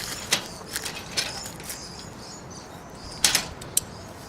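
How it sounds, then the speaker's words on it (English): Screws are tightened on Land Cruiser rooftop basket brackets, giving sharp ratcheting clicks and creaks in short bursts spaced through the clip, close by, with a louder cluster near the end and no talking. "we'll go around and tighten up all the screws"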